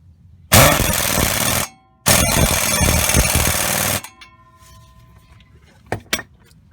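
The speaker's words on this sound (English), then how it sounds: "I'm using that dang swivel and impact gun" Impact gun on a swivel socket removing an upper control arm bolt on a 2000 Chevy Silverado 1500, two loud sustained rattling hammering bursts close up, then a quieter pause with a couple of short metallic clicks.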